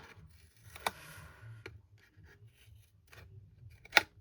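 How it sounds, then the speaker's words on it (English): A few sharp snips of poor-quality scissors cut through paper for a craft treat box, spaced apart with quiet rustling and handling sounds between them. "Oh, my scissors aren't the best."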